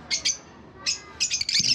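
A pet breeder bird gives bright, high chirps in short bursts, a pair of quick calls, then a single one, then a rapid cluster, close and moderately faint against quiet surroundings.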